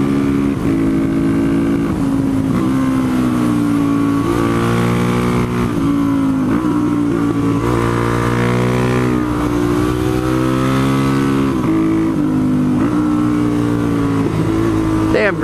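Supermoto motorcycle engine revving hard on a Forest Service gravel road, loud continuous rising and falling engine tones close to the rider.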